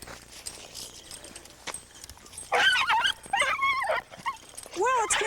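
During rattlesnake avoidance training, a dog lets out several high, wavering whimpers and yelps in quick bursts in the second half, loud and close, after a stretch of rustling and a voice speaking.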